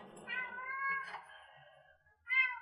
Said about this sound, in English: cat's got plenty to say today